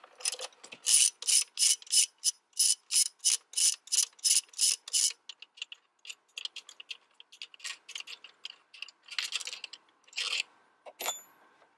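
A hand ratchet works an 8mm screw on the intake of a 2011 Ford Explorer, giving a quick run of sharp evenly spaced clicks, then slower scattered clicks and faint scraping, close and alone.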